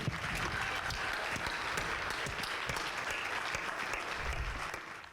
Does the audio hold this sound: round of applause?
yes